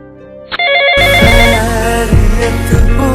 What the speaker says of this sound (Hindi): मैं अभी जंकू को कॉल करती हूँ।